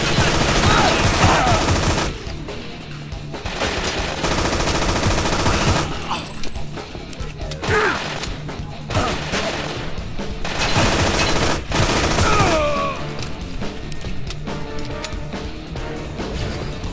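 Enemies fire guns in the video game Infernal in repeated loud automatic bursts separated by brief lulls, with ricochets and impacts through a busy firefight.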